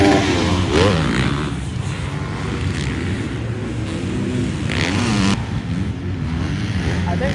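A two-stroke motocross motorcycle engine races at Daytona in a late-afternoon pro moto, its buzzing drone mixing with other bikes at a steady, fairly loud level, with rising and falling revs as riders pass.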